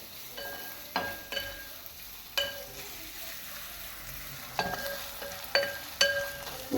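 Grated coconut sautéing in a pan for a broken-wheat dish, a soft steady sizzle with several sharp stirring scrapes and clatters at irregular intervals, moderately close and not loud.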